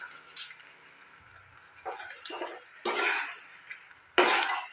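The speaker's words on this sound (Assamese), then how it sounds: "আলুখিনিও মই ইয়াতে ভালদৰে মিলাই ল'ম" Potatoes are stirred into chilli sauce in a pan. A few short scraping and clinking bursts of utensil against the pan stand out over a quiet background.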